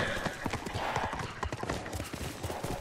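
Horse hooves clip-clopping in a video game, a continuous patter of quick hoofbeats at a trotting pace over dense game ambience, fairly loud and steady throughout.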